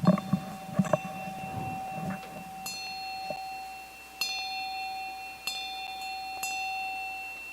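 Clear metallic rings from light strikes on a small gold object, a few spaced taps each leaving a bright, sustained ringing tone, with quiet handling noise early on.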